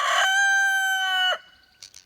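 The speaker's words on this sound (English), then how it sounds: "when you have more than one rooster and they do that, like he just did that 3 times" A single rooster crows once, loud and close, a long harmonic call lasting over a second before breaking off, followed by faint scratchy sounds.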